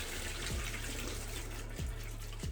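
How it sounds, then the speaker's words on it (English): Boiling water poured from a kettle over cooked pasta in a sink, a continuous close splashing and gurgling stream with a few soft thuds, no talking. "I rinse it with the kettle of boiling water just to help disperse all of it"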